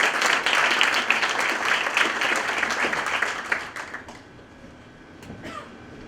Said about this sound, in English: let's recognize him and give him a big round of applause.